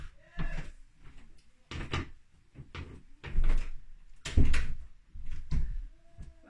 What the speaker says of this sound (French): Je vais fermer la porte de la chambre.